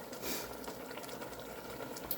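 Potato chowder bubbling at a steady boil in a pot on the stove, a dense continuous simmer and gurgle with no voices, close and even throughout.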